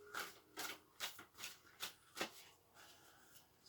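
Tarot cards are shuffled up close in a series of quick riffling bursts, roughly two per second, crisp and fairly quiet, with no talking.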